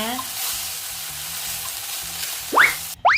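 Pad thai with noodles, sauce, dried shrimp and peanuts is stir-fried in a pan, giving a steady close sizzle with soft scraping stirs and a few rising squeaky sweeps near the end.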